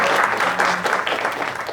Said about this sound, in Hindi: एक बार तालियां बजाएं इनके लिए,